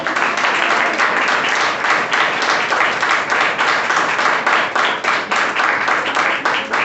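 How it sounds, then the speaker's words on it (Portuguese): A church congregation claps and applauds in praise during a worship service, a loud, continuous and dense burst of many hands sustained for several seconds. "que a igreja venha uma salva de palmas ao Rei da Glória"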